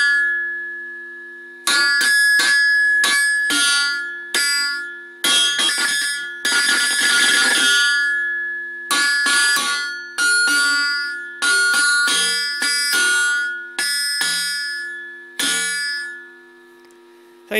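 A single string on a homemade electric diddley bow, struck repeatedly in bright separate plucks that ring with a pure, sustained tone like a tuning fork, each note decaying before the next, with gaps of silence between.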